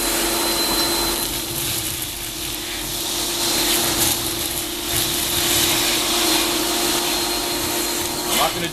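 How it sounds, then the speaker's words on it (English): A shop vac roars continuously while sucking ash out of a pellet stove's burn pot, a loud steady whine with scraping, rattling debris and nozzle rubbing throughout. "with your shop vac with a nice clean filter, you want to clean out everything in the burn pot"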